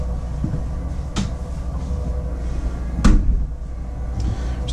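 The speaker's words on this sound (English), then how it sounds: "There's a pocket door that closes right here." A pocket door slides along its track inside a 2017 Dynamax DX3 37TS motor home, with a low rumbling roll and two sharp knocks as it moves and shuts, no voices.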